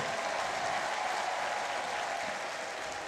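A church congregation gathered at a stadium in Muhanga applauds steadily throughout, a dense, even wash of clapping at moderate level with no voices rising above it.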